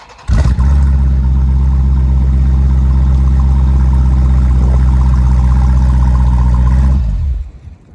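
A Jeep Grand Cherokee SRT fitted with an X-pipe exhaust cranks and fires up, then holds a loud, deep, rumbling idle for several seconds before cutting off, heard up close with no talking.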